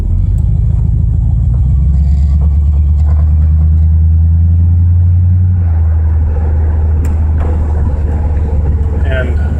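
A V8-swapped Mazda RX-7 drives down the road, its deep engine rumble close and loud, dropping in pitch partway through as it keeps rolling, with someone talking over it.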